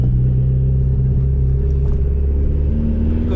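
Fiat Abarth 500 driving on the road, its engine a steady, loud, close rumble with a faint rise in pitch as it pulls along, heard alone without talk.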